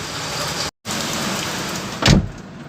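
Rain falling steadily around a Hyundai car, a dense even hiss of drops on the surface, briefly cut out once, then a short louder thump near the end.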